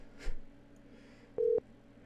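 Phone dialing tones: a short soft tone burst, then after a gap a louder steady tone lasting about a quarter second, over faint line hum and no voices.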